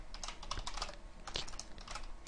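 Computer keyboard typing while writing Qt database code, a steady patter of close, fairly quiet key presses in uneven bursts, alone with no voice.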